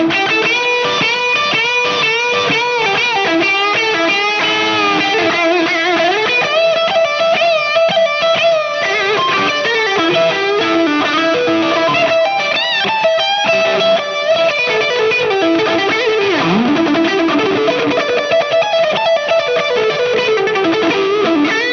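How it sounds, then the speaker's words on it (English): Electric guitar on a Planet Tone Custom T with both Elite Pro Tele pickups together through heavy gain distortion, a loud, dense, saturated lead line with sustained notes, bends and fast runs, playing continuously without talk. "And now both pickups together with that same ridiculous amount of gain."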